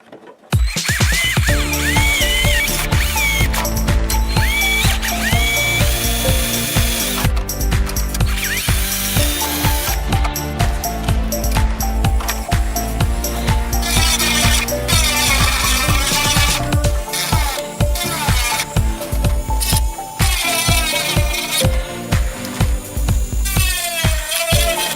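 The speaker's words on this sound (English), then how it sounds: "I'm going to use the Dremel to get everything evened out." A handheld Dremel rotary tool grinds down an LED mount to even it out, a steady high-pitched whine with loud, sustained buzzing that shifts in pitch as the bit bites, broken by short chattering bursts near the end.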